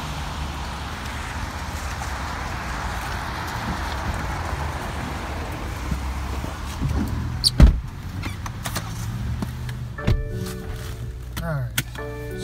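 Getting into a 2018 BMW 640i GT: outdoor traffic hum gives way to a door thud, then a quieter cabin with clicks and small mechanical sounds as someone settles in.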